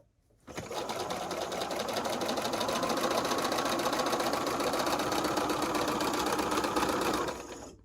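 A sewing machine runs steadily for about seven seconds, stitching a quilt seam with a fast, even mechanical whir and rapid needle clatter, close and loud, starting and stopping abruptly with no voices.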